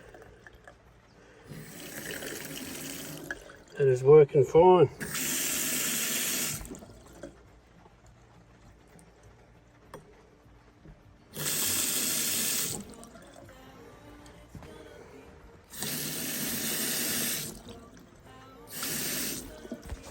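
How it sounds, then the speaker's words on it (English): Tank water from an off-grid supply flowing through a filter into a shower and basin, heard as several separate bursts of close running and gurgling water with short gaps, plus a brief sputter of air in the line and a little talk. "That's just the water gurgling through the filter, or the air that I put in the line"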